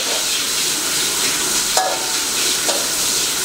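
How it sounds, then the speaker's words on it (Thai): Marinated pork with garlic stir-fried in a hot wok for Thai-style dry suki, a loud, steady sizzle close by with a couple of faint scraping stirs, no talking. "เทียมเหลืองแล้วก็ตามด้วยหมูหมักครับ"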